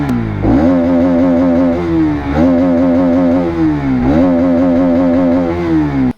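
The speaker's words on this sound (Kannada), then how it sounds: "ಗೈಸ್ ರೈಡ್ ಮಾಡೋದಕ್ಕೂ ಮುಂಚೆ ಇದ್ರದ್ದು ಎಕ್ಸಾಕ್ಟ್ ನೋಟ್ ಕೇಳೋಣ ಬನ್ನಿ." A Bajaj Pulsar NS 200 motorcycle idles loud and close with a buzzy exhaust note, revved briefly three times before it cuts off at the end.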